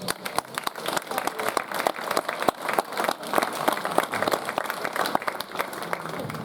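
An audience at the Bulzi in Rima poetry evening applauds steadily for Anselmo Cavizza and his family, a dense round of clapping sustained for several seconds with a faint murmur of voices beneath.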